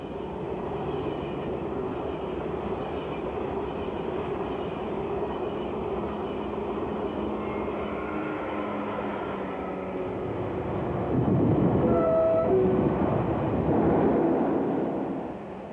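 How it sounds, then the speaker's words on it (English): High-speed passenger train running through the Channel Tunnel between London and Paris, a steady enclosed rumble throughout that swells louder near the end as it passes close, with no talk. "This type of high-speed train uses the tunnel every day,"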